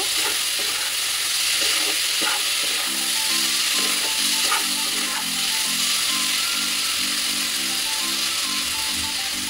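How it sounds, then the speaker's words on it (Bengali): Spice paste for a rui fish curry fries in a pan while it is stirred, giving a steady sizzle broken by repeated scraping, ratchet-like clicks of the spoon, close and fairly loud with no voices. "ভালো করে কষিয়ে নিতে হবে মশলাটাকে, যাতে না গন্ধ ছাড়ে।"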